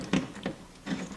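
A handheld rivet nut tool sets a rivnut into a fender hole on a 2015 Jeep JK Wrangler, giving three short, close mechanical crunches, fairly quiet, with brief pauses between squeezes.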